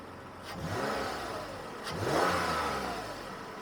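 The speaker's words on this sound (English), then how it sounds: "we are going to give it a little bit of RPM revs" An engine of a 2010 Toyota Highlander SUV revs up twice, rising and falling in smooth swells over a steady idle, close and fairly loud.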